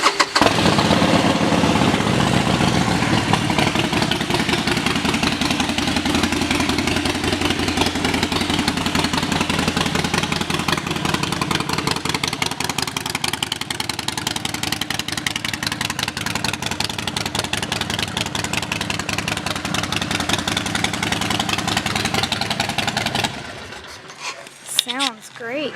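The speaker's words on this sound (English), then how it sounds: "Let's listen to that exhaust." A 2015 Harley-Davidson Sportster 72 with aftermarket exhaust fires up and idles with a loud, rough, steady rumble close by for most of the run before cutting off near the end.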